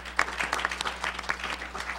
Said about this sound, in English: Maria Reza, could we give her an applause also?